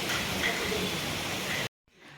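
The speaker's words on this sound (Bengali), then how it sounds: "বৃষ্টি দেখে আর ভালো লাগছে না কবে থেকে হয়ে যাচ্ছে" Rain falls steadily as a broad, even hiss that cuts off abruptly near the end, leaving only a fainter wash of sound.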